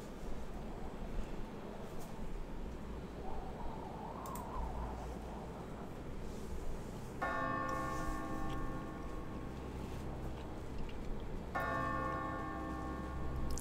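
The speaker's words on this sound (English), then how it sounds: "Some bells." Bells chime twice in a song, each strike ringing out with a long sustained tone over a steady, noisy background, the second about four seconds after the first.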